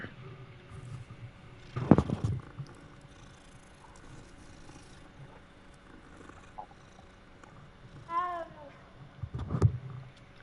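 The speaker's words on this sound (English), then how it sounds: "Let's pet the cat." A cat in Hogwarts Legacy's Transfiguration courtyard gives a single rising meow late on, after a couple of louder, duller bumps in the game's quiet ambience.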